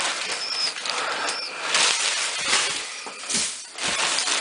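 Pigeons inside a loft, a close busy mix of scuffling feet, rustling and bursts of wing flapping with a faint coo or two, several loud flurries rising and fading across the stretch.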